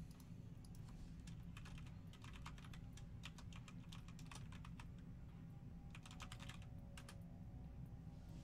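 Computer keyboard typing during a live hacking session, soft clustered keystroke clicks in irregular bursts over a constant low hum, with no talk.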